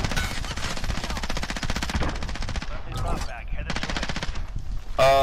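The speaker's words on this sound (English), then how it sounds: "Now he's shooting." Rapid automatic gunfire from the Warzone video game, with a dense stream of shots for several seconds, a brief lull, then more bursts, loud and close, with a voice over it.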